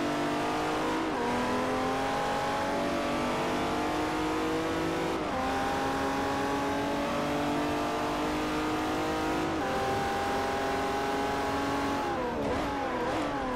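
BMW race car engine in the racing game Forza Motorsport 4, roaring loud and continuous as it climbs through the revs, with sharp drops at each of several gear shifts.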